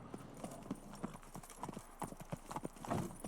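Horse hooves clip-clop in The Witcher 3, a steady trotting rhythm of close, distinct hoofbeats over quiet game ambience, with a soft whinny-like sound near the end.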